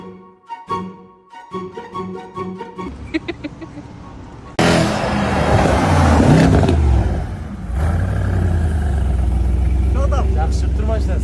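A car engine idles and then revs hard, a loud sustained roar with rising bursts close by, after an opening stretch of clattering and people talking.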